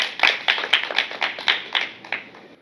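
Audience clapping in unison on command, about ten sharp, evenly spaced claps in a steady rhythm, loud and close with no talk over them.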